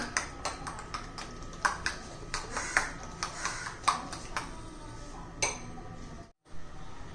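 Eggs being whisked in a bowl for egg paratha: a steady run of quick, light metallic clinks and taps of utensil against bowl, fairly close and moderately soft.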